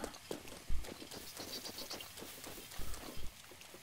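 Steady rain patters in Zelda: Breath of the Wild, a dense even hiss with scattered soft low thumps, close and continuous with no voices.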